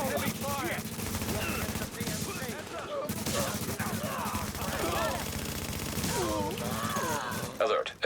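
Heavy gunfire rattles in a video game, with dense continuous bursts of shots and mechanical clatter under game voices and radio chatter.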